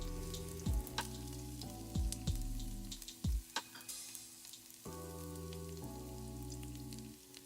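Crushed garlic drops into hot oil in a pan, already holding mustard seeds, with a soft crackling sizzle and several sharp pops and clatters of utensils, close by and with no talk.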